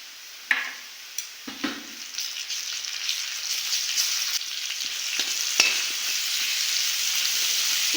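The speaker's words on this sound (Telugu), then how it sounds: "బ్రౌన్ కలర్ వచ్చే వరకు వేయించుకోవాలి" Ginger garlic paste frying in a pan for pepper chicken, a steady close sizzle throughout with a few sharp stirring clinks near the start.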